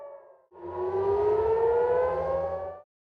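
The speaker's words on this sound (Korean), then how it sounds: "곳곳에 사이렌이 밤새 울렸고" A civil defense air raid siren in Israel wails steadily during nighttime air strikes, its pitch slowly rising over a few seconds, loud and sustained before cutting off.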